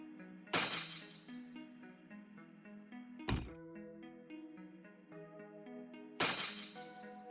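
A designed ice-attack sound effect: three sharp crystalline ice shatters burst out at intervals, each followed by a ringing, chiming tail of glassy, processed tones with echoing delay.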